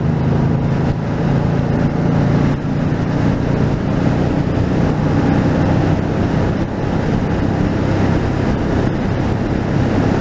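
Honda Deauville motorcycle riding along a road, a steady broad engine and road roar with heavy wind buffeting, continuous and close throughout.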